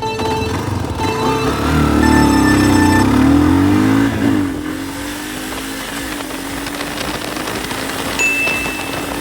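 A stock motorcycle with all original parts runs a full-throttle 0 to 60 mph acceleration. It rises loudly through the gears for about four seconds, then settles into a steady high-speed drone.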